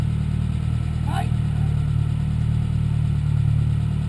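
A car engine runs at a steady low rumble while the car crawls over rocks inside a second tunnel, loud and close, with one brief rising scrape early on.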